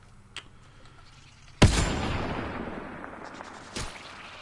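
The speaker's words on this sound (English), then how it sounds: "the reason that bullet went so slow is because I got like plasma-seeking bolts" In a video game, a sniper rifle firing plasma-seeking bolts lets off a sharp, loud shot that decays into a long rumbling tail, with a fainter click before it and a softer thump after.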